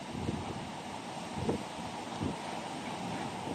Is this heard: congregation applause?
no